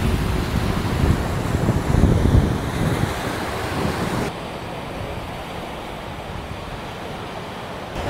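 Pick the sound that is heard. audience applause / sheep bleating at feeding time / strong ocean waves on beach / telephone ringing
strong ocean waves on beach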